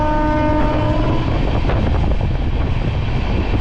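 The Aranyak Express, running with new LHB coaches on South Eastern Railway, rumbles past loudly and steadily, its horn sounding in the opening moments over continuous wheel noise.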